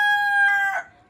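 Native country rooster giving the tail of a crow, one short loud close call that breaks off abruptly.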